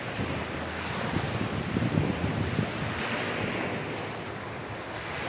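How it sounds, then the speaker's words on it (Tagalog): Rough sea waves wash steadily onto the shore in Misamis Oriental, with strong wind buffeting the microphone into a continuous broad roar and no voices. "Ang dagat sa Misor."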